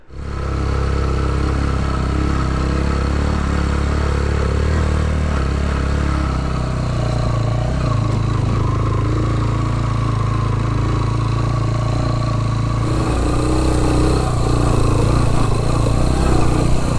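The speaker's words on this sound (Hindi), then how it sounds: "अब बाइक जो है ना चल रहा है" Motorcycle engine labouring up a steep, rough jeep track in Neelum Valley, a loud continuous close-up drone with steady throttle and mechanical clatter, no talking.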